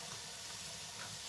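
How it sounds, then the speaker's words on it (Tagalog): Tap water runs steadily from a faucet, a soft continuous hiss of flow at a low, even level with no talk over it. "please turn off the tubig"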